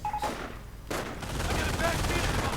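MG42 machine gun fire in a World War II strategy video game: a dense, loud burst of rapid shots that starts after a brief lull and continues through to the end.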